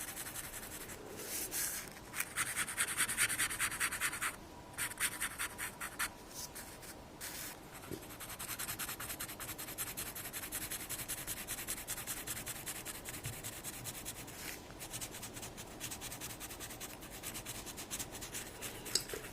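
An ink pen makes shading strokes on paper during a black-ink sketch, a soft, close scratching in quick rhythmic bursts with brief pauses between series of diagonal strokes, quiet throughout.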